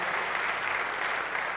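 An audience at a business and entrepreneurship mentorship class applauds an advocate, a dense, steady burst of many hands clapping filling the whole short moment.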